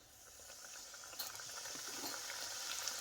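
Chebakia, Moroccan honey-sesame pastry, sizzling in hot oil for Ramadan sweets: a steady, close bubbling hiss that swells slightly, with no talking.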